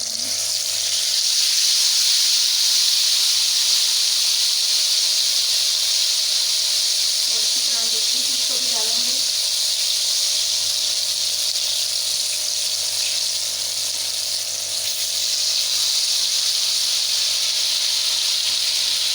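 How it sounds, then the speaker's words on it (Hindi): Besan-coated fish sizzles in hot oil on a stove, a steady broadband hiss running throughout with brief bubbling bursts midway and faint voice murmur beneath. "तो अब हम इसे फ्राई करते हैं।"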